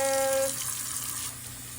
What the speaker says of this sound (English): So guys, now I'm rinsing out my hair.